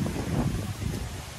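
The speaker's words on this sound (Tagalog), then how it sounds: "pero malakas pa rin yung hangin." Gusty wind after a typhoon buffets the microphone with a low, rumbling roar that surges and eases over a moment, loud and close.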